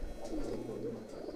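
Pigeons offered at a bird sale coo softly and continuously, a faint, low, rolling murmur with a quiet background hum.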